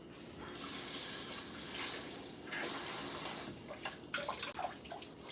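Tap water runs steadily into a rice cooker pot as food is rinsed inside it, a close hissing flow that breaks into splashes and swishing toward the end.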